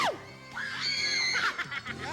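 A loud, sustained scream from a contestant on a Filipino TV game show, shrill and rising with wavering pitch, followed by laughter and crowd noise over a busy studio background.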